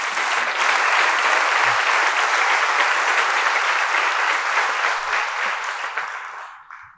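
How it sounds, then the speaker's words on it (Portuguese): A talk audience applauds a volunteer at a martial-arts talk, steady dense clapping that fills the room for about six seconds before tapering off, with no voices over it. "Uma salva de palmas para a Margarida."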